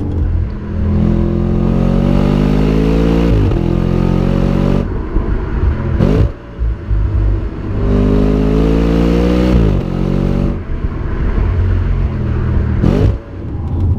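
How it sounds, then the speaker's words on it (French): A loud Audi RS5 engine revs up through several gears, its pitch climbing repeatedly with brief drops at each shift, roaring close and continuously. "les vocalises du moteur sont impressionnantes"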